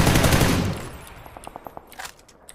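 Gunfire in the PUBG battle royale game: a loud, dense roar of weapon noise at the start gives way to a string of sharp, separate shots, some quite close together, with no talk over them.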